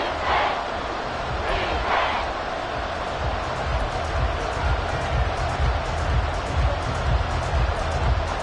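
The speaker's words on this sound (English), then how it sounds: "This crowd doing all they can." A football stadium crowd roars steadily and loudly during an Atlanta Falcons game, a dense wall of cheering with swelling shouts throughout.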